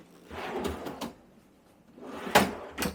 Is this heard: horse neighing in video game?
no